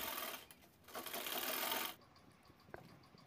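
A sewing machine runs in short bursts, stitching along the joint of a fabric handbag, with a steady whirring hum that stops abruptly partway through, leaving only faint small clicks and room noise.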